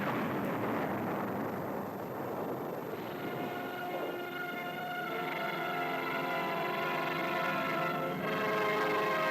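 A 1951 nuclear test detonation from Operation Ranger and Buster-Jangle, heard as a sustained, loud roaring rumble with no break, swelling into a broad rolling blast noise.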